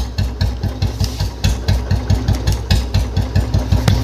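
A Royal Enfield Bullet motorcycle engine thumps at idle with a kill switch trick, giving a loud, close, evenly pulsing dug-dug beat of about five to six thumps per second.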